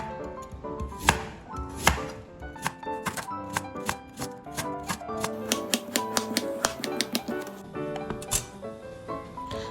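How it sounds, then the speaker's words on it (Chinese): A knife slices 200 grams of purple sweet potato, with a run of crisp rhythmic cuts against a board that speed up midway, heard over tuneful background music. "我们将200克的紫薯切片"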